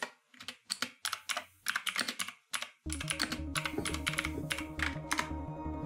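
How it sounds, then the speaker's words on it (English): Fast typing on a computer keyboard, close and clear, with sharp clustered key clicks in short bursts, then quieter tapping continuing over a low background hum. "I'm so sorry for all my tippity typing."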